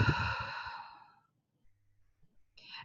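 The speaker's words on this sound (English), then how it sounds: "Take a deep breath." One long, deep exhaled breath, close and clear, trails off into near silence. A brief soft intake follows at the end.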